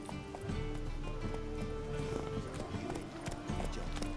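A horse in The Witcher 3 video game gallops with a quick, rhythmic clip-clop of hooves, moderately loud and continuous, with faint game sounds mixed in.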